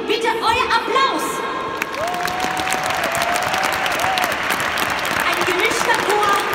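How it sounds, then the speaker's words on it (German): A crowd at a Christmas sing-along in a stadium applauds a mixed-age choir with loud continuous clapping, scattered cheers and whoops, and a few voices calling out over it. "Bitte euer Applaus!"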